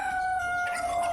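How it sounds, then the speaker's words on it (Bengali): A rooster on a farm gives a single drawn-out crow, held on a steady, clear pitch and heard close and loud over faint background noise. "দেখুন রাতা মুরগাগুলো, দেখুন রাতা মুরগাগুলো কতটা সুস্থ সবল রয়েছে।"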